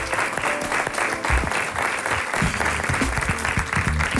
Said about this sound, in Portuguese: Um grande aplauso para a Margarida